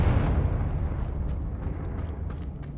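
A Confringo blasting spell from Hogwarts Legacy erupts in a deep, rumbling explosion that decays into a sustained low roar, with faint crackling debris scattered over nearly three seconds.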